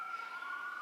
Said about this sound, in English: I hear them sirens.